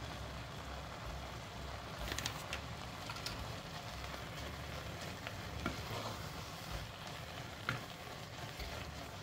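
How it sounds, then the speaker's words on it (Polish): Mixture with cinnamon stirred in a pot on the stove, a steady low scraping and sizzling texture with a few sharper clicks of the spoon against the pot, fairly close and continuous. "Mieszam i studzę."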